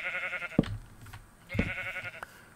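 Sheep in a video game bleat twice, two clear wavering baas about a second apart, each opening with a soft thump, close and moderately loud.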